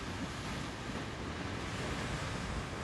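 Strong high-tide waves crash on a beach in a small coastal town, heard as a dense, constant wash of surf mixed with wind buffeting the microphone, steady and unbroken throughout.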